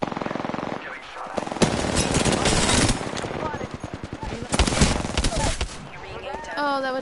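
Rapid automatic gunfire in a first-person shooter video game, loud and dense, with bursts of shots and impacts running nearly throughout, mixed with game effects and a voice speaking over it.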